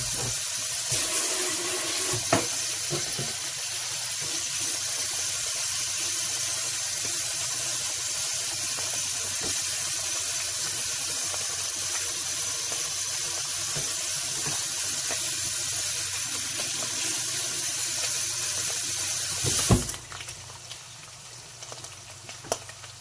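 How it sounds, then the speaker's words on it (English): Kitchen sink tap water running steadily as something is rinsed under it during taco cooking, a continuous close hiss with a few clanks, ending with the flow shutting off and a brief clatter. "Now, rinse that off."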